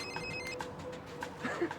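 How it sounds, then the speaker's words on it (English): A telephone rings faintly with a soft, repeating ring tone over a low background hiss, with no one talking. "I have a phone call."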